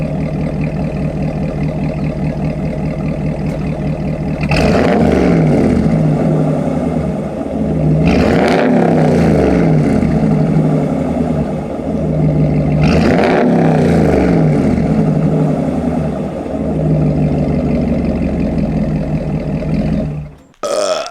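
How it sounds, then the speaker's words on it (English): A 2022 Ram pickup truck with an AWE exhaust idles with a deep, rumbling burble, then is revved three times in a row, each rise loud and close before settling back to idle, with no talking. "now that we have our AWE exhaust idling here for us, let's give a little rev"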